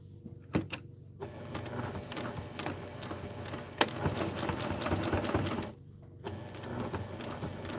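Sewing machine stitching during a live OESD embroidery assembly session, running in steady continuous bursts with a brief pause midway, moderately close and alone.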